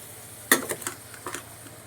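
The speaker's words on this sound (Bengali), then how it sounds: "দেখো চিকেনটাকে আমি ঢেলে দিচ্ছি এইবার চিকেনটাকে সমানে কষাতে হবে" Chicken for chicken kosha tipped into a hot pan with fried garlic, giving a sudden sharp sizzle and clatter followed by several quieter sizzling bursts and stirring scrapes, fairly close.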